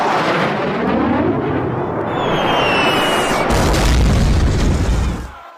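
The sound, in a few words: explosion sound effect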